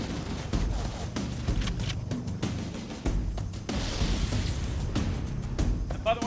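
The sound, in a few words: needler explosions in Halo: Combat Evolved video game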